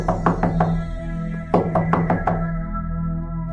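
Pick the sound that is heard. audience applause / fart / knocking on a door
knocking on a door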